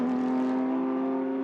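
A race car at the Sepang 12-hour endurance race holds a steady, loud engine drone at constant pitch, close by and without any speech.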